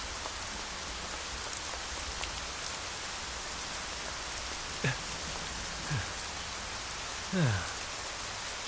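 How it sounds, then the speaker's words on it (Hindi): Steady rain falling, a dense even hiss of drops on surfaces, with a few faint brief bird or voice-like chirps over it. "बारिश को भी अभी आना था।"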